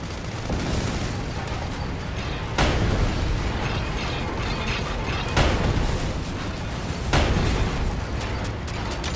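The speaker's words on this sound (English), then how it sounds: "More missiles! Use the machine gun again!" Missile explosions and machine gun fire in the Sand Land video game battle: a dense, continuous roar of rattling fire broken by several sharp bursting blasts spread across the stretch.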